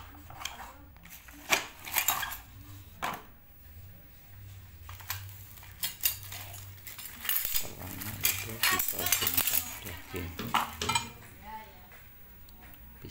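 Stainless steel kitchen knife set being unpacked, with scattered metallic clinks and rattles of blades and packaging handled close by, irregular and moderately loud, while a person talks throughout.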